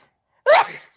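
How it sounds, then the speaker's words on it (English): A woman lets out a single sharp sneeze, close and loud, breaking a brief silence and trailing off quickly. "her random sneeze attacks"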